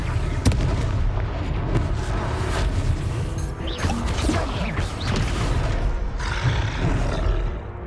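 The Confringo spell explodes in the video game Hogwarts Legacy. It makes a loud, sustained roar of booming blasts and crashing debris that fills the whole stretch, with sharp impacts near the start and middle.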